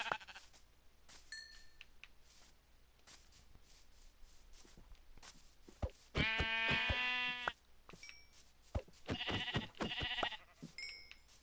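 Blocky sheep in Minecraft bleat in a cluster of loud, harmonic calls midway through, with a few quieter bleats following, set against soft in-game ambience and scattered faint clicks.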